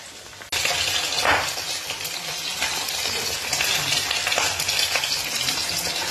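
Bitter gourd and eggplant fry in a pan with a steady, loud, close sizzle that starts abruptly and continues throughout, with faint occasional stirring scrapes and no talking.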